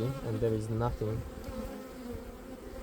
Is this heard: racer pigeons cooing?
no